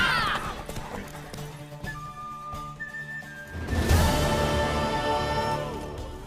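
Horse hooves clip-clopping alongside a neigh or whinny and a whistle-like tone, continuous at moderate loudness, with a fuller burst midway through.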